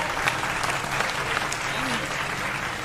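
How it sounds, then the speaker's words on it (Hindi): Audience applause at a Hindi comedy poetry gathering, a steady dense clapping that fills the whole moment, close and fairly loud, with faint voices mixed in. "एक बार तालियां मन से बजाइए यार"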